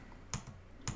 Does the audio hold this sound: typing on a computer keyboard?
yes